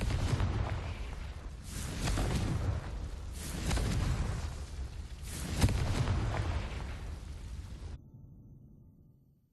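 A Confringo fire spell blasts in Hogwarts Legacy, a loud rumbling explosion with repeated booming swells over several seconds, then it cuts out to near silence.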